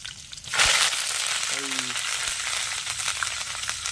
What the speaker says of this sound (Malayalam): കൊച്ചുള്ളി അരിഞ്ഞിട്ടു കറിവേപ്പില ഇടുന്നതാണ്